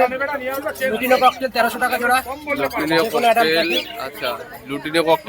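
Pigeons coo softly in the background at the Krishnanagar pigeon market, mostly buried under someone talking steadily in the foreground.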